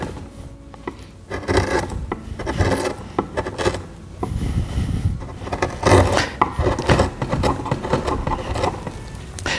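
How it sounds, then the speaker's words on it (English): A Swiss-made number 3 gouge cutting wood for a chair seat, producing uneven scraping and rasping strokes with soft knocks, close and fairly loud with no talk. "this happens to be a Swiss-made gouge, and it's a number 3 gouge as far as the curve here of the sweep"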